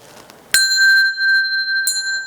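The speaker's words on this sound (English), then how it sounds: "As I ring the bell" A bell is struck sharply twice, each strike a bright clear ring; the first tone sustains and slowly fades, then a second strike adds a fresh ring, with near silence otherwise.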